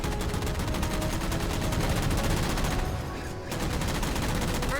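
Dense, continuous automatic gunfire from Halo 4 as jammers are shot down, loud and unbroken with a brief dip in intensity near the end.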